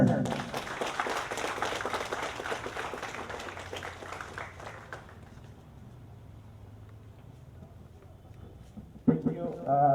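An audience at a school division kick-off applauds as the regional director is welcomed. Dense clapping fades over several seconds, then a louder burst of sound and a voice come in near the end.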